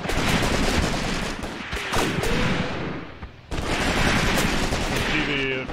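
Dense gunfire and fusillades in the wartime tactics game Graviteam Tactics, with rifle and machine-gun bursts crackling continuously at high level, a short lull midway, then renewed heavy firing.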